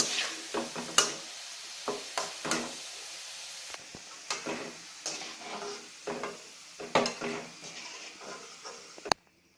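Bitter gourd (pavakka) pieces fry in hot oil with a steady sizzle, broken by repeated sharp scraping and clacking strokes of a spoon stirring the pan throughout.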